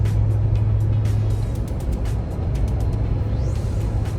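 A big truck passes on the road, heard from inside a moving vehicle as a steady, loud engine and road rumble that holds throughout, with a low droning tone early on.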